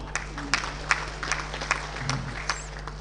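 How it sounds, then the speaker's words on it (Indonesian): During a provincial legislative plenary session, scattered, sparse clapping comes in a loose, uneven rhythm of a few hands over a steady low hum in a large hall. "Tepuk tangan dulu."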